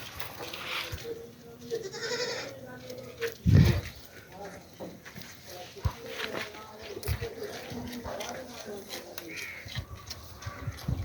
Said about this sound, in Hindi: कमेंट में बताइएगा कि कैसी लगी आपको ये बकरियां